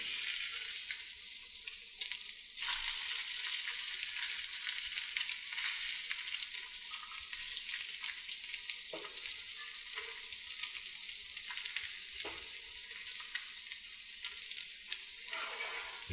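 Keto salmon cakes fry in a pan, giving a loud, continuous sizzle that runs throughout, broken by a few brief dips and crackling shifts as the cakes are turned over.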